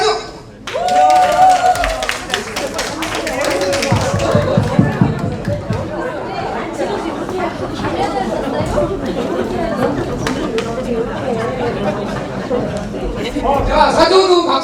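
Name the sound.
audience clapping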